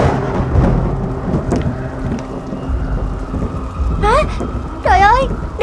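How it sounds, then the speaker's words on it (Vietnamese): Heavy rain hisses steadily with low rumbles of thunder underneath during a stormy night, while a voice in an animated cartoon briefly speaks over the downpour. "Mưa to quá"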